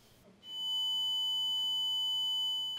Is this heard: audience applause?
no